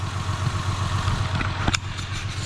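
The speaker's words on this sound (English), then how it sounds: "So we're idling a lot better now." Honda engine idling after a repair of high, sporadic RPM, a steady low mechanical hum with a faint rhythmic pulse and one brief clank partway through, close and alone.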